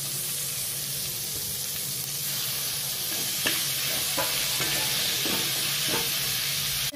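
Onions and tomatoes are stirred and sautéed in a pan for nookal chops: a steady, close sizzle throughout, with several soft scraping stir strokes in the second half and no talk.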